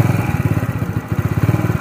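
A kick-start motorcycle engine runs steadily at close range, a fast, even, loud putter that dips briefly in the middle and picks up again.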